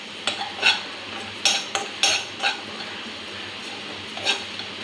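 Spices dry-roasting on a low flame in a kadai, stirred with a metal spoon: a run of sharp scraping clinks, clustered in bursts, close and fairly quiet over a soft steady hiss, with no voices.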